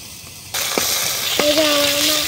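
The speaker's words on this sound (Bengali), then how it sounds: "এই যে আমার মাছের তেলগুলা কড়াই দিয়ে দিল।" Fish fat hits a hot wok with a sudden loud sizzle that holds as a steady hiss, broken by a couple of clinks and a faint tonal whine.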